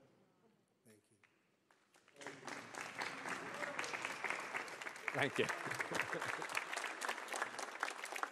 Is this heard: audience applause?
yes